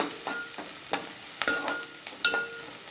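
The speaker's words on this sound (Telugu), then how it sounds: "అలాగే పచ్చిమిర్చి కూడా వేసేసుకోవాలి" Green chilies fry in a pan beside okra, a steady sizzle broken by several sharp stirring scrapes roughly every half second, close and with no speech.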